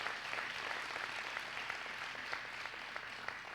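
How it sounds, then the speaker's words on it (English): An adult education commencement audience applauds the graduates in 2010: a fairly faint, even crackle of many hands clapping from a distance, steady and unbroken. "Please give them some applause"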